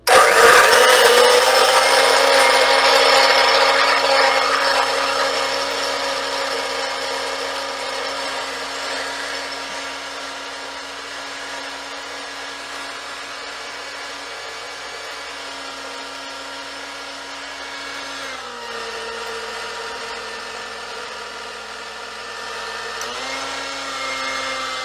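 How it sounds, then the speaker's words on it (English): A blender flash-blending a tiki cocktail runs continuously for about twenty seconds, a loud steady whirring motor whose pitch sags and shifts slightly as the ice-laden mix churns, with no talking. "We're going to blend for 20 seconds and hope my motor doesn't burn out."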